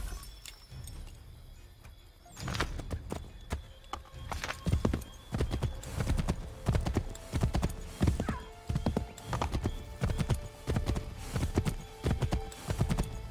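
Horse hooves clop in a steady rhythmic gait in Assassin's Creed 3, close and fairly loud, with occasional whinnies and jingling tack mixed in.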